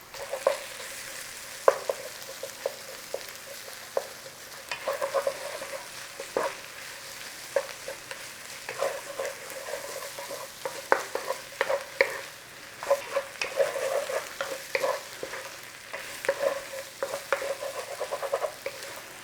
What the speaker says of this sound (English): we want a couple of tablespoons of tomato paste or tomato puree. And we want to cook it for about a minute